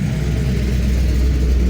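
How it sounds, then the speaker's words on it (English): A Chevrolet Camaro from around 1983 rolls past at a spring rod run car show, giving off a loud, steady low engine rumble that stays close throughout. "Here comes a Camaro, maybe 83 or so, I guess."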